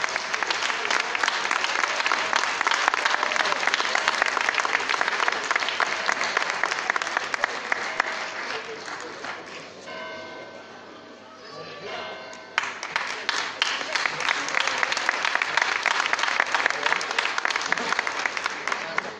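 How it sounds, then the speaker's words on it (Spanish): Loud, sustained applause from a hall audience at a plaque presentation during a 2021 town festival proclamation event in Barruecopardo, dense clapping that dips briefly mid-way with a faint tonal sound, then surges back up. "Un fuerte aplauso."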